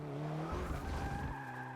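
Tires of a Porsche 944 Turbo breaking loose in Forza Motorsport 6, a steady squealing skid over a droning engine with a low rumble mid-slide, loud and continuous.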